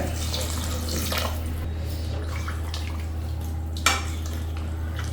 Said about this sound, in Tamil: ஆறு கிளாஸ் தண்ணி சேர்த்துக்கிறேன்